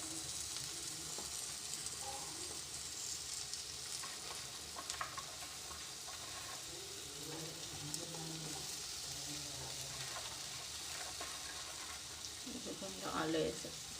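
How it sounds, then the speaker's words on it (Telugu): Ginger garlic paste and turmeric fry in a pan with a soft, steady sizzle and scattered stirring clicks, faint throughout and joined by a little background voice and clatter near the end. "అల్లం వెల్లుల్లి పేస్ట్ అండ్ పసుపు వేసాను. ఇదిగోండి ఫ్రై అవుతుంది."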